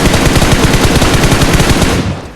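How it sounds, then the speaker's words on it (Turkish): Rapid automatic gunfire from a PUBG Mobile match on the Livik map, loud and close, a continuous burst of shots that trails off at the end. "Ay ay ay kim sıktı lan bana öyle?"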